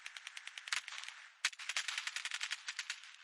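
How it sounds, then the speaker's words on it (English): Rapid bursts of automatic gunfire crackle in quick repeated volleys, punctuated by a couple of sharper, louder shots, with no voices. "And all of a sudden, you hear gunfire."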